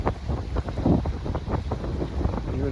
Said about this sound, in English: Even though the wind is blowing